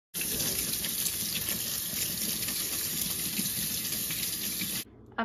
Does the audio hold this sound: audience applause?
no